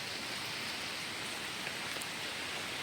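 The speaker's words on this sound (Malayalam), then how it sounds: "നല്ല മഴ പെയ്യുന്നുണ്ട് കേട്ടോ" Heavy rain pours down near a riverside house, a dense, even hiss of drops falling on surfaces, steady and moderately distant with no voices.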